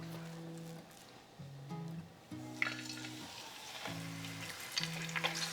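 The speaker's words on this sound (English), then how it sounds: "we're gonna sear it really well." Flour-dusted beef sears in a hot oiled pan, giving a steady, loud sizzle that swells as the meat goes in, with low sustained tones running underneath.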